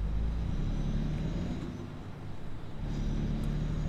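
A truck engine in Euro Truck Simulator gives a deep, steady idling rumble, close and continuous, with only a slight dip partway through and no other sounds on top.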